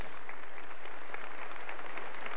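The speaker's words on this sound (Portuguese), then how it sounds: "vamos aplaudir essa vitória" A congregation applauding during a Catholic Mass, steady close clapping from many hands filling the whole stretch at an even, loud level, with no voices heard.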